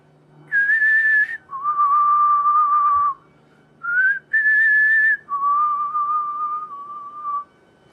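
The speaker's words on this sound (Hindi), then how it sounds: "आप ये सीटियां मारते क्यों फिर रहे हो?" A person whistles a loud, clear tune at a comedy roast show, holding long sustained notes in several phrases with short pauses between them. No voices are heard.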